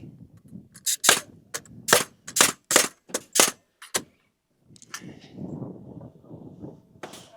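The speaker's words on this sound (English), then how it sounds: "we can nail our header in" Hammer blows drive nails into a wooden header set into wall framing, about eight sharp, loud strikes in a quick, uneven rhythm, followed after a pause by a low rumbling scrape.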